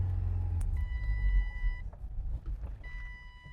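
An old Ford Escort, back on the road after twenty years, drives along with a low rumbling engine and clunky ride, punctuated by a few steady high-pitched warning beeps.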